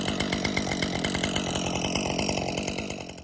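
A chainsaw cuts through pines being cleared from a barn's gutters, with a loud, close, steady buzzing whine and fast rhythmic chain chatter, alone without talk.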